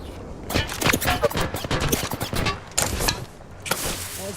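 Gunfire in a shooter video game: loud rapid bursts and single shots crack close by, clustered in quick volleys, with someone talking in between.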